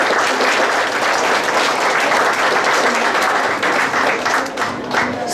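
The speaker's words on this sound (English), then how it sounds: "Please give all three of the lovely ladies a round of applause." An audience applauds three women panelists at a vegan nutrition and wellbeing festival panel, with loud, dense clapping that keeps up evenly throughout and dips only briefly near the end.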